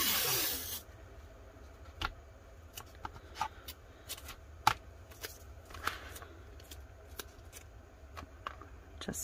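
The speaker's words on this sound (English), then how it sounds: "I'm going to run a piece of tape in between here and the bottom" Tape laid along an epoxy tumbler gives soft, faint crackly ticks and short rustles spread through a quiet room, after a brief louder burst at the start.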